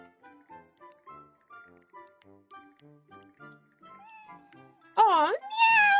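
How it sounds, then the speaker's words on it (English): A cat gives two clear, rising-and-falling meows near the end, loud and close, following a stretch of light, plinking background music. "Aw, meow!"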